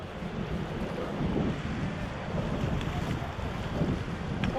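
River rapids rush and roar around a raft on the Ganges at Rishikesh, a loud, dense, continuous wash of churning water with wind buffeting the microphone.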